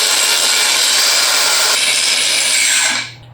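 A Mellif 20V brushless angle grinder, compatible with DeWalt batteries, runs with a loud, steady, high-pitched whine for about three seconds before cutting off abruptly.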